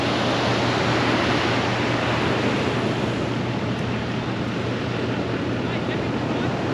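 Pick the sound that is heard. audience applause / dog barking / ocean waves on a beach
ocean waves on a beach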